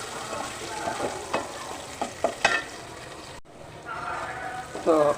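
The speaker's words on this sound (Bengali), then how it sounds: "খুব সুন্দর করে নেড়ে চেড়ে নিব" Onions and spices sizzle in a frying pan while a spatula stirs them, with scraping strokes and crackling bursts over a steady fry, close up, with a brief drop partway through.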